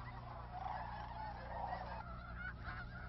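A crowded flock of geese honking at a wildlife refuge in New Mexico, a continuous overlapping chorus of calls at moderate distance.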